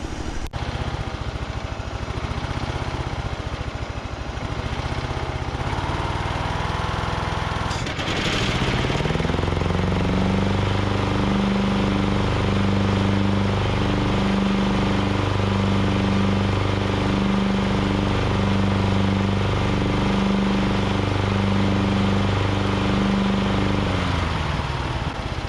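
A Craftsman DYT4000 riding lawn tractor engine idles roughly, then starts up partway through and settles into a loud, steady running drone close by, with no talking.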